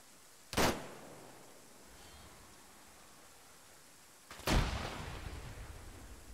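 Two grenade explosions in a military video game, about four seconds apart. Each is a sudden heavy blast, and the second trails off into a long rumbling wash.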